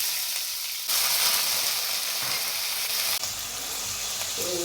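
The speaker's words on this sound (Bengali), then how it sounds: "এবার আলুটা আমি দিয়ে দিচ্ছি" Potatoes drop into hot oil in a pan, setting off a sudden loud sizzle that keeps frying steadily, with a brief stir-like shift toward the end.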